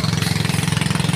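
A motorcycle engine that had just been repaired runs steadily close by, its fast, even pulsing throb filling the clip without pause and with no voices.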